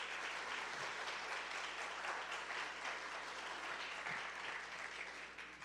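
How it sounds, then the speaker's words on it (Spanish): Audience applauding in a university auditorium at an open house event, continuous fairly quiet clapping from a crowd that holds steady and then thins out toward the end. "Bueno, ¿lo aplaudimos?"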